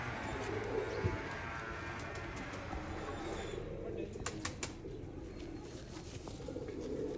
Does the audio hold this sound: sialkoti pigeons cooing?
yes